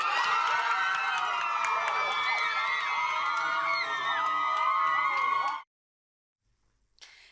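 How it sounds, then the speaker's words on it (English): Loud crowd cheering, whooping and high-pitched yelling fill a Chicago city council chamber after a ceasefire resolution vote, a dense sustained roar that cuts off abruptly into silence. "The cheering, the clapping"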